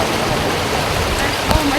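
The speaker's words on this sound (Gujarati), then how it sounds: "આજે વરસાદથી ઠંડકને મજા આવી ગઈ છે" Rain falls on the streets of Rajkot as a steady broadband wash, moderately loud and continuous, with a brief knock near the end.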